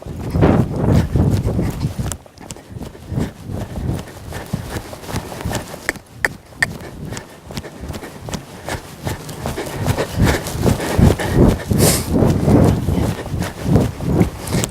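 Horses walk in a riding arena used for dressage training, their hooves giving a continuous, fairly loud clip-clop with a steady rhythm and some scuffing, and no voices.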